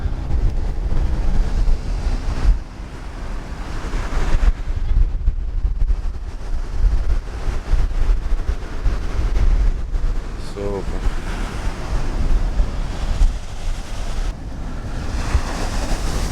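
Fairly big ocean waves wash onto an island beach with yellowish sand, a steady loud roar of surf mixed with wind buffeting the microphone, continuous throughout with occasional swells of louder crashing.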